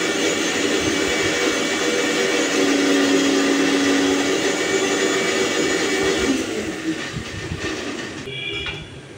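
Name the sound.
mixer grinder grinding mustard seeds into paste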